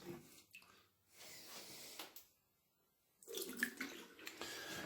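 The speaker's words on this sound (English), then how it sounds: "I'm just going to have to drain some of the water out of this" Water draining from a plumbing pipe splashes and trickles in bursts, pausing briefly, then resumes more strongly; close, wet, irregular flow with no talking.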